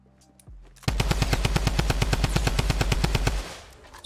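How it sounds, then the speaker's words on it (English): Rapid automatic gunfire from the Fortnite video game, a steady burst of dense shots lasting a few seconds after a brief quieter moment, loud and close with no talk. "Is he getting shot by somebody else?"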